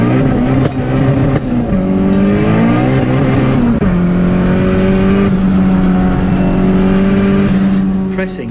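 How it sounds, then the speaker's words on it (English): Turbocharged classic Mini with a swapped Honda VTEC engine running 14 psi from a Precision 5431 turbo, pulling hard through the gears: a loud, close engine note climbing in pitch, dropping at each shift, then climbing again, with a voice talking over it. "Pressing this little button tells the electronic boost controller to let the Precision 5431 turbo produce 14 psi"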